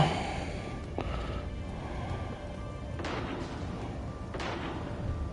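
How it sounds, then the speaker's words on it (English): Distant gunfire in the video game Mass Effect: Legendary Edition, a few muffled shots and booms over a noisy, rumbling ambient background. "Uh-oh, gunshots in the distance."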